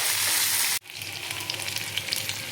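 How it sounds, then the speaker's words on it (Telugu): Garlic fries in a pan for Chennai-style idli chicken soup, a loud hiss that cuts out sharply, then returns as a softer crackle with light stirring ticks close by. "ఈ వెల్లుల్లిపాయలు వేసుకొని మనం ఇలా కలుపుకోవాలి."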